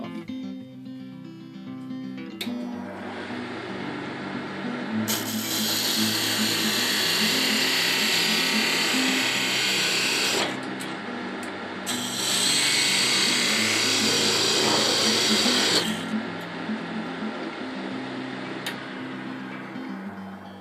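A homemade parting tool on a wood lathe cuts through a wooden ring cutoff, with a steady motor hum and two long, loud hissing cutting passes separated by a brief break.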